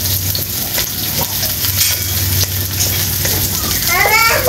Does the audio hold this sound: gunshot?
no